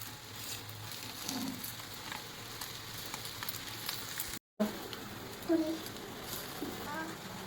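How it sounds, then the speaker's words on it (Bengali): An egg fries in a pan at home, a faint sizzling crackle running beneath quiet speech, with a brief gap and a few clinks partway through. "ডিম ভাজা হয়ে গেছে"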